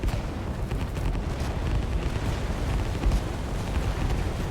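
Cruisers firing on a rocket site in a strategy video game, a dense, continuous rumble of overlapping explosions and booming impacts that stays loud and steady throughout.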